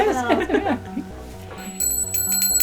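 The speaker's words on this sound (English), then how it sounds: "Ring the bell." A small bell rings a few times with a bright, sustained metallic tone over a steady low hum, while people talk and cheer nearby in a living room during a holiday movie reaction.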